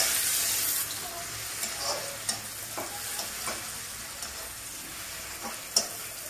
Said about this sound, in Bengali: এতে আমি টমেটোটা দিয়ে দিচ্ছি। এবার টমেটোটাকে আমি একটু মিশিয়ে নেব, যাতে জলটা ছেড়ে দেয়।